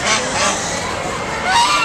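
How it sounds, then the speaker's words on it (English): A goose honks near the listener at a farm or petting area, a loud nasal call that repeats in quick bursts over about two seconds. "There's a goose."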